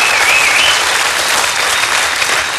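Loud, dense studio audience applause on the Swedish TV show BingoLotto, with steady clapping throughout, close and sustained.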